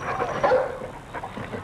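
A dog gives a short yelp or bark, a brief high cry followed by softer whimpering sounds, close and fairly loud, with no talking.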